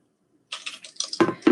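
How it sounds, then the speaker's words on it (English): After a brief silence, water is poured into a container, splashing and trickling unevenly up close for about a second. "I'm going to take the water, I'm going to pour some water in here"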